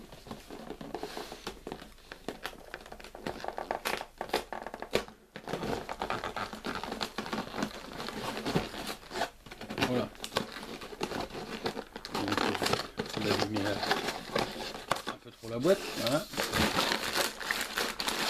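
Plastic packaging of a LEGO Chima Rogon's Rock Flinger set crinkles and rustles continuously as it is opened up close, with a person speaking over much of it.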